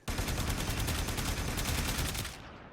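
The Boltor Prime in Warframe fires in a fast, unbroken stream of rapid shots, loud and close, then the burst stops and a short tail fades away.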